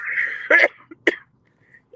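Two or three short, harsh coughs break out close up, with a moment of throat-clearing and brief vocal sounds around them.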